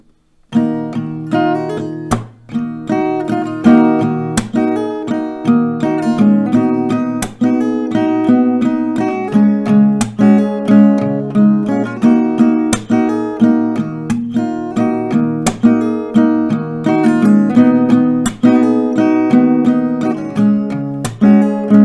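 Steady rhythmic strumming on an acoustic guitar, chords struck repeatedly at an even pace with sharp pick attacks, loud and close for about twenty seconds.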